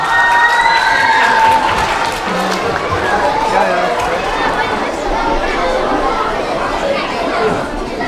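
Crowd at a school stage show cheers and applauds as a third-grade class is welcomed on, a dense steady roar of clapping and shouts with voices mixed in throughout.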